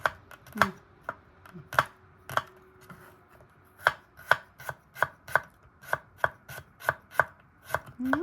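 A knife slices garlic thinly on a cutting board for Thai roasted chili paste. About twenty crisp, close taps come in an uneven rhythm, sometimes in quick runs and sometimes after short pauses, with no talking.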